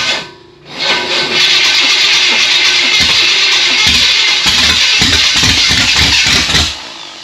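A previously seized engine, freed by force, cranks and catches, then runs roughly at a loud, steady level for about six seconds before cutting out, with irregular knocking pulses through the run.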